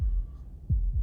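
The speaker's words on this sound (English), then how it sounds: "That was the sound of a heartbeat" A heartbeat sound effect in the video game Slay the Princess, deep low thumps under a steady hum, with two clear beats arriving near the end of the short stretch.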